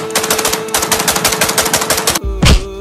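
Rapid automatic gunfire rattles in a steady, loud stream of closely spaced shots for about two seconds, then stops and is followed by one heavier, booming blast.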